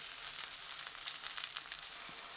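Eggplant pieces pan-frying in olive oil over high heat, a soft, even crackling sizzle with fine popping throughout, fairly quiet and close, with no voices.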